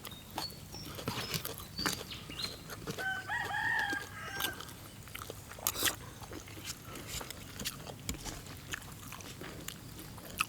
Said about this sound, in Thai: ไก่ขัน